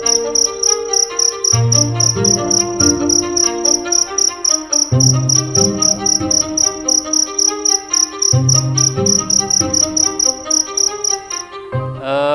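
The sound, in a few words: cricket chirping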